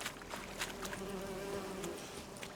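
Bees buzz in The Witcher 3: Wild Hunt, a faint, steady insect drone with brief swells, heard alone at low volume.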